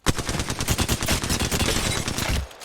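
Alternator SMG in Apex Legends firing one long, unbroken automatic burst of rapid, evenly spaced shots, loud and close, cutting off abruptly near the end.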